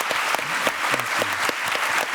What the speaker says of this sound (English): So let us thank our guests with a nice round of applause.